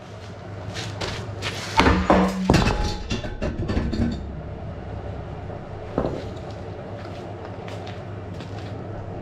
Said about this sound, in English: we're gonna have to give it a couple of love taps with that hammer there and see if it comes off